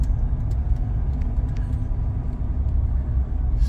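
A vehicle loaded with bikes backs out slowly, its engine giving a steady low rumble that stays continuous and fairly close throughout, with no voices.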